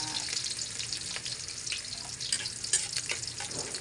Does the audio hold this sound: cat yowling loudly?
no